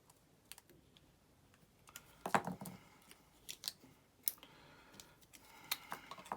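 Small scissors cutting a little red flower off a doctor's appointment planner sticker, a string of sharp close snips with light paper rustling in between.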